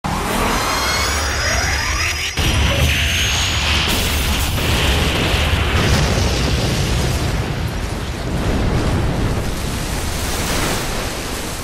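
A suicide bomb explodes in the anime Gargantia on the Verdurous Planet. A sudden burst gives way to a loud, sustained roaring blast with swirling, sweeping noise that lasts several seconds, and no voices are heard.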